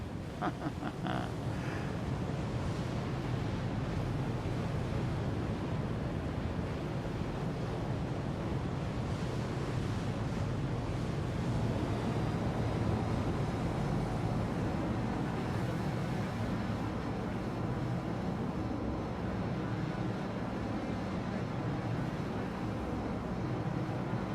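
A ship's engine drones steadily in a sailing game, a constant broadband rumble and wash like wind and surf that holds at even loudness throughout.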